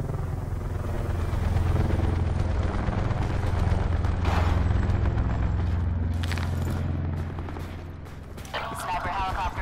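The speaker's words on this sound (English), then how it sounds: "Sniper helicopter above." A helicopter hovers overhead in a military shooter video game, its low rotor drone steady and loud under continuous gunfire, with game voice callouts breaking in near the end.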